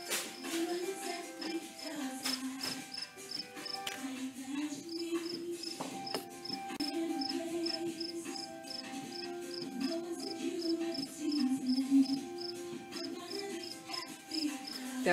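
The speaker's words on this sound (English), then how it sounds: "Is that him chirping or is that another one?" A cricket chirps steadily in rapid repeated pulses, fairly close, continuing throughout over a faint background hum.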